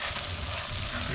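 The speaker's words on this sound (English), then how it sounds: "We're going to put in the mushrooms now. So this is 4 blended mushrooms." Four blended mushrooms hit a hot pan on a Kamado Joe grill with a loud, continuous, broadband sizzle that fills the short moment.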